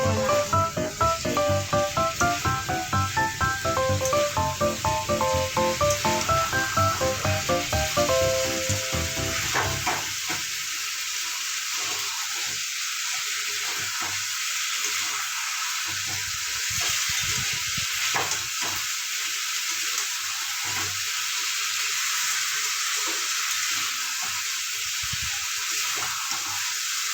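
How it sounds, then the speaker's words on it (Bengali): Chicken curry frying on high flame: a loud, continuous sizzle with stirring at first, then a quieter hiss broken by intermittent scrapes and clicks of a spatula against the pan, with no voices. "আবার আমি একটু হাই ফ্লেমে করে নাড়াচাড়া করছি।"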